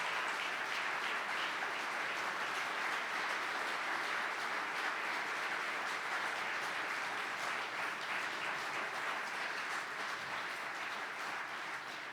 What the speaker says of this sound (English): let's give Jim a big round of applause along with Mike and Michelle for everything